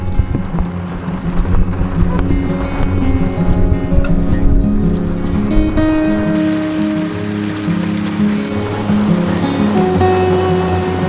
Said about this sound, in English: This is crazy. I've never known it to rain like this.